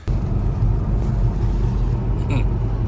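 A BMW G21 330e plug-in hybrid rolling into a garage on a cold day, a low steady rumble of the car moving close by, with someone talking over it.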